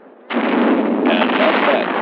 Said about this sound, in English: The enemy machine gun is ready to fire again